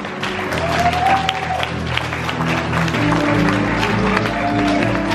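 Wedding guests break into sustained applause for the groom at a Korean wedding ceremony, a broad steady wash of clapping from a large crowd filling the hall for several seconds.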